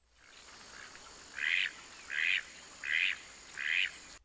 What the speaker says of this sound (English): It's a generic duck, but in a good way.